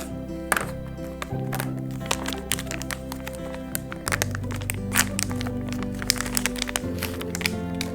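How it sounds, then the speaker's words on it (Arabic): A plastic sample bag for a DNA cheek-swab test being handled: sharp crinkles and crackles come in irregular bursts throughout, close and fairly loud over a steady low background hum, with no talking. "هذا الكيس اللي راح نحط فيه العينة"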